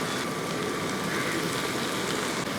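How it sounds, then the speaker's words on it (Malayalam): Chopped tomatoes hit a hot pan of sautéed onions, setting off a loud, even crackling sizzle that continues unbroken with no talking. "ആ തക്കാളി അങ്ങോട്ട് ഇട്ട് കൊടുക്കാം"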